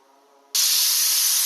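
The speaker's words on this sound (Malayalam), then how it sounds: "കുക്കറിൽ ഒരു വിസിൽ വന്നിട്ടുണ്ട്" A pressure cooker cooking rice gruel abruptly bursts into a loud, steady hiss of escaping steam that continues without pause.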